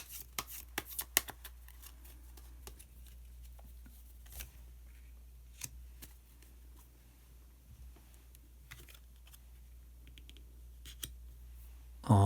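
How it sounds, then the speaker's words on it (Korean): Osho Zen tarot cards handled on a table, sparse soft clicks, taps and rustles of cards being shuffled and drawn, close and quiet with long gaps between. "그러면은 카드 한 장을 더 뽑고 이야기 계속 나오도록 하겠습니다."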